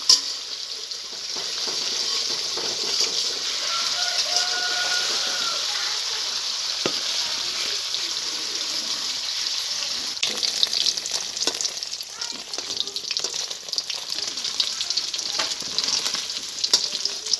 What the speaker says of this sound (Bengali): একবারে সব পনির দিলে ভেঙে যেতে পারে, তাই আমি অল্প অল্প করে ভেজে নিচ্ছি।